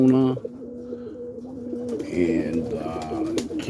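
A lavender pigeon cock coos in deep, rolling, throaty phrases close by, with other birds chirping faintly in the background.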